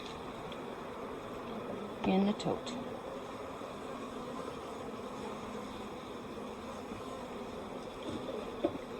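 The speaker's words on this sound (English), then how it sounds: "Good activity with the bees." Steady insect buzzing from many honey bees at an open hive being inspected fills the background, with a brief voice speaking partway through and a few soft knocks.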